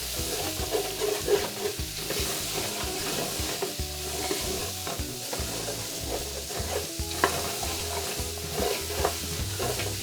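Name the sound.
stirring mirepoix in a pot for braised brisket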